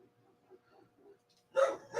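A dog barks twice indoors in a house, two loud close barks after a stretch of soft background murmuring.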